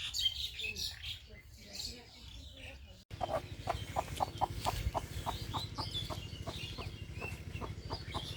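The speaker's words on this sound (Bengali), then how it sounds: "হাঁস মুরগির ডাক" Village chickens and ducks call outdoors in the morning. Repeated close clucks and short calls come in a quick series, with small birds chirping and a faint murmur of background activity.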